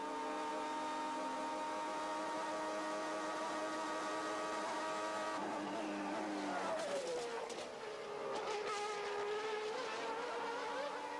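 Formula 1 car from 1989 with a semi-automatic 7-speed gearbox racing, its engine note holding a steady high-revving tone, then dropping and shifting through gears, with loud continuous roar and crowd-like noise at the circuit.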